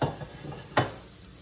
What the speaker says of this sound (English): we are just going to let this cook until it gets a beautiful sear